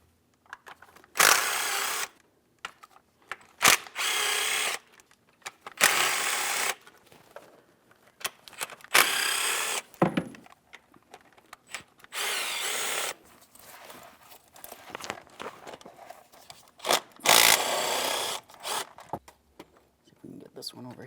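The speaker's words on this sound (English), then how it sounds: "Let's continue on by removing each piece of hardware so we can remove the valve cover." Valve cover bolts coming off a Ford Transit 250 engine, heard as repeated close bursts of a whirring, ratcheting power tool separated by short pauses, with speech of about the same loudness in between.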